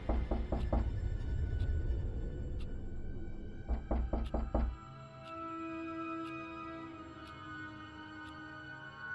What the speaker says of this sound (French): Quelqu'un a frappé à ma porte.